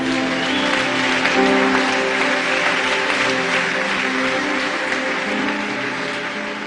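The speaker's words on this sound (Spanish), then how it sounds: "Dale un aplauso al Rey bendito." A church congregation claps together during a worship service, a dense, steady wash of applause over sustained musical tones, fairly loud and continuous throughout.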